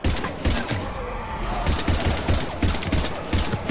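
Heavy gunfire from a Mass Effect 3 battle against Husks: dense, loud bursts of rapid shots with clattering impacts, continuous and close.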